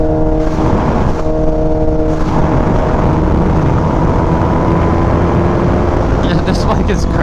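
Kawasaki Ninja H2 motorcycle accelerating on light throttle, a loud, rough engine and wind roar that builds steadily throughout, heard close up with speech partly mixed in.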